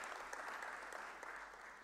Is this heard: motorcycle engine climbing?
no